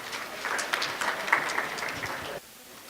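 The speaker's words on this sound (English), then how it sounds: "A round of applause to yourselves." A short burst of applause from a gathering of public servants, moderately loud and steady for about two seconds before cutting off sharply into quiet room tone.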